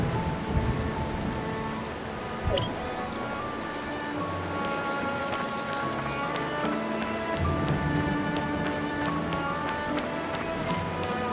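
Steady rain hisses and patters in the Tower of Fantasy video game, with a low rumble of thunder rolling underneath and a brief sharp crack early on, all continuous and fairly loud.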